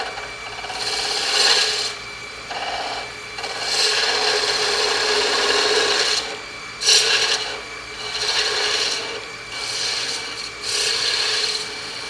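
A skew chisel rolls the corners of a spindle on a wood lathe, giving a steady rasping, scraping cut in several bursts of a few seconds each over the constant hum of the spinning lathe, close and fairly loud.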